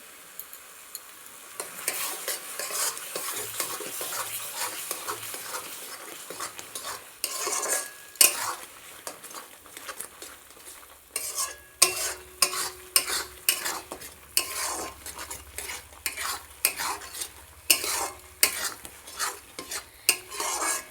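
Bottle gourd peel paste is stirred in a hot pan to dry out, with a soft sizzle at first and then repeated rhythmic scrapes and knocks of a spatula against the metal, close-up with no talk.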